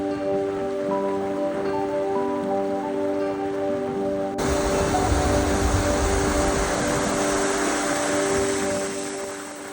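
Heavy rain falls in Iceland, a dense hissing patter on surfaces that grows louder and fuller partway through, steady and close with no voices.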